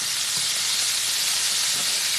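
Cornstarch-coated chicken livers deep fry in hot oil, a steady dense sizzle and hiss that stays loud and close throughout.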